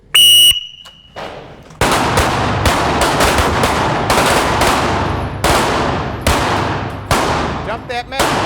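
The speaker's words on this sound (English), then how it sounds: "Dump that mag, Doc. Dump that mag. Nice shooting, David." Loud rapid handgun fire on an outdoor range during a Terre Haute shooting class, a strong burst of shots in quick succession after a brief electronic beep, with closely spaced reports continuing to the end.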